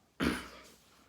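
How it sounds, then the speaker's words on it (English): A single short cough or throat clear from a speaker talking during allergy season, close to the mic and fairly quiet, fading quickly with no talk around it. "excuse me if I cough"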